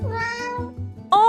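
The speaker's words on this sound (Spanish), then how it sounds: "Es un gato." A cat meows in a short series of close, clear mews, a few drawn-out cries in quick succession with no talking, then a brief tonal sound at the very end.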